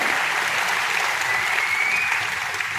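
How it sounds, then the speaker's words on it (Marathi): Audience applause at an award ceremony honouring successful competitive-exam students in Amravati, a dense, even wash of clapping from a large crowd that stays loud and unbroken throughout. "टाळ्या वाजत राहिल्या पाहिजे."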